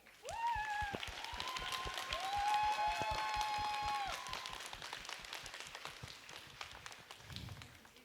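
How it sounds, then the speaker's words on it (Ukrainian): An audience at a first-year student stage show claps in a steady, dense round of applause, joined early by high whistles and cheering voices, then thinning toward the end. "Давайте подякуємо Збройним силам України оплесками."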